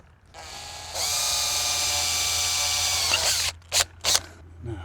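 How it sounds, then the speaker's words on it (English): A power drill bores a hole while working on an antenna setup. It whines steadily and loudly for a couple of seconds, then two short bursts follow as the trigger is released and pulsed. "Let me just drill a hole here."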